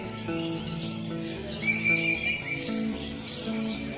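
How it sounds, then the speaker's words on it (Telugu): Free-range birds calling in an open aviary at Ramoji Film City in Hyderabad, a dense mix of chirps, tweets and squawks layered over one another at steady moderate loudness, with birdsong continuing throughout. "సో ఇక్కడ వచ్చేసి ఫ్రీ రేంజ్ బర్డ్స్ అనమాట. అంటే బర్డ్స్ ఫ్రీగా ఎగురుతూ ఉంటాయి అనమాట ఓపెన్గా."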